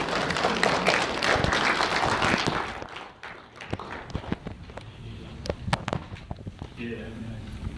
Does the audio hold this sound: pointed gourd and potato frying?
no